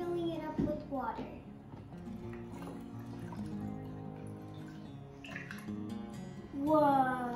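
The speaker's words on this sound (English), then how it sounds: "Now we're filling it up with water." Water pours and gurgles into a container in short bursts, with a voice speaking faintly nearby between the pours.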